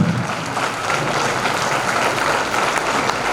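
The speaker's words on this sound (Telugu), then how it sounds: "ఒక్కసారి మనం అందరం నుంచుని క్లాప్స్ కొడదామండి" A standing audience at a spiritual book release event in Anaparthi claps loudly and steadily, a dense wash of close applause with no break.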